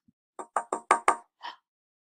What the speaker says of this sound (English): They tapped quietly, though.